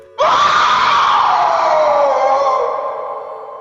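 A woman lets out a long, piercing scream that starts abruptly, holds loud and strained, then slowly trails off, heard alone as a ghost-story sound effect.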